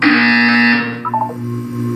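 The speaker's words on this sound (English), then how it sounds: "When you hear the buzzer, look down at the floor." A steady electronic buzzer tone from the video game Portal 2, loud and sustained for about a second, then a short warbling blip as it cuts off, leaving a low hum.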